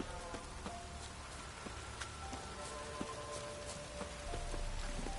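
A rain downpour in the video game Witcher 3, a faint, steady hiss of falling rain with light buzzing of insects and scattered small ticks mixed in.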